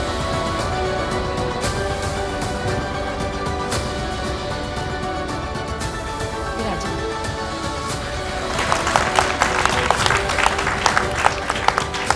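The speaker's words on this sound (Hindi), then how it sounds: "आप सभी का बहुत बहुत स्वागत है जोरदार तालियों से चौपाल का आगाज एक बार फिर से" An audience at the opening of a televised interview show in a chaupal setting claps, steady applause building louder near the end, with a host's voice speaking over it throughout.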